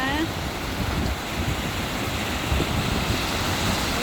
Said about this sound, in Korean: 비도 오고, 파도 소리도 좋고